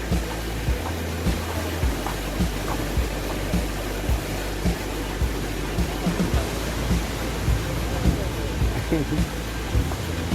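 Khlong Lan waterfall in a Thai forest park, heard as a steady broadband rush of falling water that runs unbroken and fairly loud throughout, with faint voices and footsteps beneath it.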